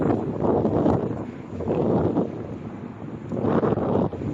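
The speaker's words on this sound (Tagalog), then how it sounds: "Still hot. Gawin is still hot. But it's windy." Wind blows outdoors on a hot evening, buffeting the microphone in steady broadband gusts that swell and fade, with no talking.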